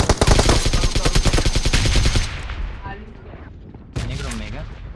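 Rapid sniper and automatic gunfire in a battle-royale shooter, loud and dense for about two seconds, then fading, with one more sharp burst near the end.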